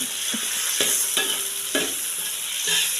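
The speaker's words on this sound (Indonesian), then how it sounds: "Minyaknya udah panas ya guys, nenek taruhin semuanya aja" Onions and chilies fry in hot oil, a steady close hiss and sizzle broken by several sharp clacks of stirring, with no voices.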